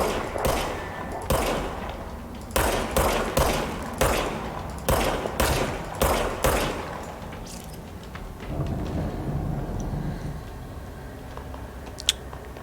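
Rapid bursts of gunfire from the player's weapon in the video game Control: a string of punchy, evenly spaced shots for several seconds, then a quieter stretch with a single faint crack near the end.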